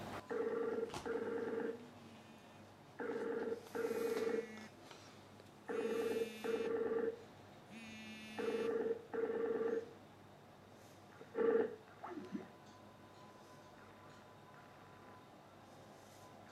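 A Skype call from a Cloudnet CR9 quad-core Android mini TV stick to an Android phone rings out in repeated two-part bursts of electronic tone with short pauses, about five rings, then stops abruptly, leaving faint background hiss.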